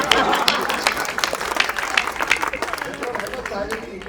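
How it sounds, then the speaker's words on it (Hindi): An audience at a Hindi comic poetry show breaks into loud applause welcoming a poet onstage, crisp dense claps with crowd murmur and a voice cutting in through the ovation. "जोरदार तालियों से लटूरी लट को आमंत्रित करिए"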